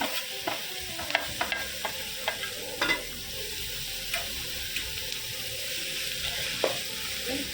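Tomatoes sizzling in an onion tempering in a pan, a soft steady frying hiss with scattered spoon taps and scrapes, close and fairly quiet, no voices.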